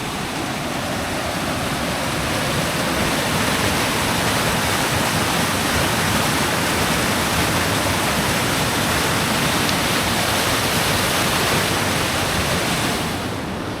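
A waterfall pours into a plunge pool in the Scottish Highlands, a loud, steady roar of rushing water close by that holds constant throughout with no voices.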